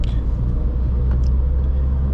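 A 2012 BMW X1 with 105 kW accelerating onto a motorway, heard from inside as a loud steady low engine and road rumble with no talking.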